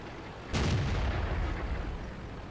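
Tank cannon firing in the World of Tanks video game, a single loud close boom that rolls off into a long fading rumble.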